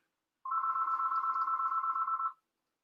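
A landline telephone rings once in a steady, sustained electronic tone for about two seconds, fairly faint and alone, with no talk.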